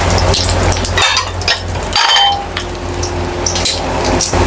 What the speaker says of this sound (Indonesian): Ada ikan 3 biji ya, jadi ini saya goreng buat tambahan lauk